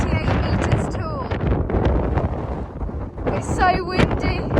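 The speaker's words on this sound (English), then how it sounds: "It's so windy." Strong gusting wind roars across a mountain summit in the fells, buffeting the microphone with a constant loud rumble and rushing that swells and eases over a few seconds.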